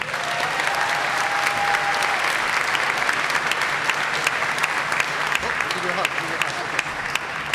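A graduation audience for the Lynn Classical class of 2018 applauds the commencement speaker, steady dense clapping from a large crowd that holds evenly throughout.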